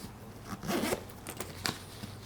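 Zipper on a pocket of a Kradul 7.5 Lux golf stand bag being pulled open and shut, a rasping run of zipping with a few sharp clicks, close and fairly quiet, with no talking.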